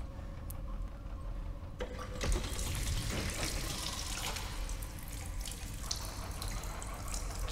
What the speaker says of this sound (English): Liquid from the overflowing sink has splashed onto the floor, pooling on the polished floor